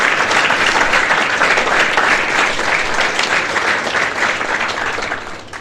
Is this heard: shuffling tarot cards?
no